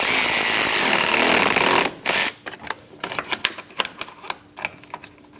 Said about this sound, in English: Snug down the terminal.